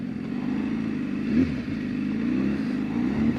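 A BMW S1000RR sport motorcycle engine hums steadily and loudly while being ridden, with a brief rise in revs partway through and a continuous low drone throughout.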